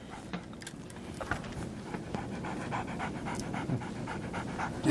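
A dog pants rapidly and steadily nearby, quick rhythmic breaths repeating throughout over a soft background, with no talking.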